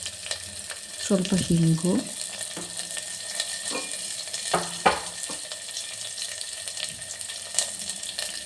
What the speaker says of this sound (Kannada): ಸಾಸಿವೆ, ಎಣ್ಣೆ, ಜೀರಿಗೆ, ಸಾಸಿವೆ, ಈರುಳ್ಳಿ, ಒಣಮೆಣಸಿನ್ಕಾಯಿ ಹಾಕ್ಕೊಂಡಿದ್ದೀನಿ. ಚೆನ್ನಾಗಿ ಫ್ರೈ ಆಗಲಿ.